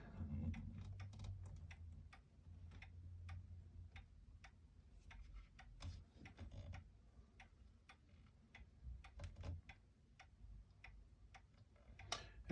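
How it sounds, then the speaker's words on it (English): A wound mechanical clock ticks evenly, a steady string of crisp, quiet tick-tock beats about twice a second, faint and close, with a low hum underneath early on. "I listen for it to be a nice even tick-tock"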